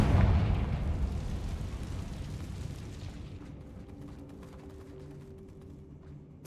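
A Confringo spell cast in the video game Hogwarts Legacy lands as a loud, deep explosive boom that rolls off into a long fading rumble, with faint ringing debris tones lingering afterward.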